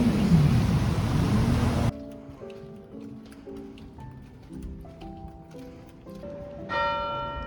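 Church bells chiming in Tours, France, a run of clear ringing tones that follows a burst of loud broadband noise, with the strikes overlapping and ringing on and a brighter bell entering near the end.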